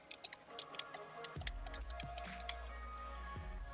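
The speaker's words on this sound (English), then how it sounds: "So I'll type that in." Someone types an IP address on a computer keyboard. The key taps are light and irregular, close and quiet, over a low room hum, with a few louder clicks partway through.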